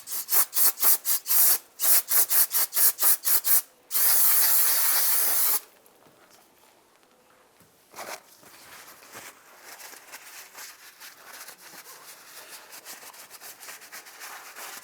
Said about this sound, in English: We're going to clean that with some brake clean.